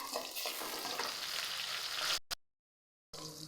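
Fennel seeds and curry leaves crackle and sizzle in hot oil in a pan, a dense close frying hiss for about two seconds before cutting out, then resuming briefly.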